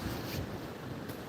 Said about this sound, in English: If the wind gets too loud, guys, let me know.